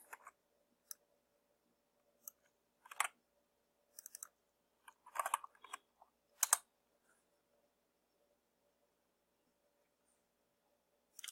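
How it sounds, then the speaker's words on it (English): Sparse bursts of computer keyboard typing, quick clusters of light clicks separated by quiet pauses, close and fairly soft. "It's a lot of typing."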